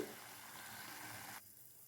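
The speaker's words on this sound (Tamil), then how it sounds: "கொஞ்ச நேரம் நல்லா கொதிக்கட்டுங்க" Drumstick leaves boiling in water with sugar in a pot for Tamil-style rasam, giving a steady close bubbling hiss that cuts off near the end.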